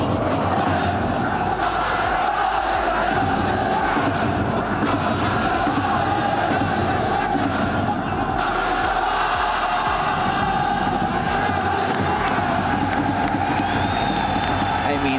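A large arena crowd at the FC Pro World Championship group stage cheers and sings together in a dense, continuous roar that keeps building, with loud layered voices throughout.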